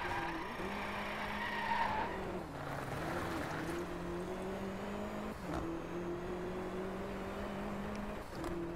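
A car drifts in the racing game Driveclub, engine droning steadily under continuous tire squeal and skidding through corners, with small bumps and pitch dips along the way, faint and sustained.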